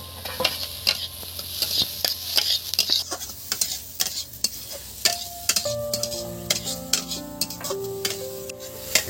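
Chopped tomato and ginger sizzle in a hot pan while a utensil stirs and scrapes, steady frying hiss punctuated by repeated close metallic clinks, with a faint tonal hum joining near the end.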